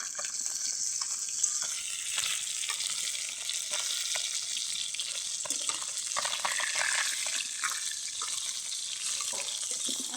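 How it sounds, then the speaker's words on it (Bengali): Tengra fish fry in hot oil in a pan, giving a continuous bright sizzle and crackle close up, with no talking. "মাছ লাল লাল করে ভাজতে হবে"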